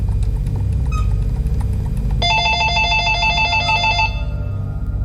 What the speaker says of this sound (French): son téléphone se met à sonner